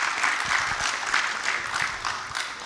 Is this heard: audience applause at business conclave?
yes